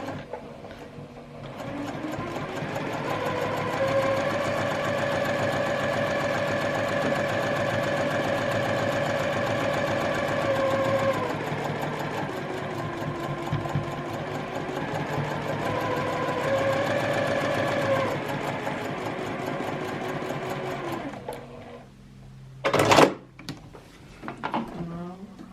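A sewing machine stitches a quarter inch seam in a quilting piece with a steady mechanical whir, pausing and resuming once, then fabric rustles and a brief clunk as the work is handled.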